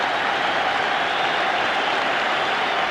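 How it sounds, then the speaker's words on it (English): A stadium crowd at a 1984 Ireland versus USSR match applauds a substituted player as he leaves the field, a steady, dense wash of clapping and crowd roar that holds level throughout with no voices standing out. "the crowd give him a rousing round of applause"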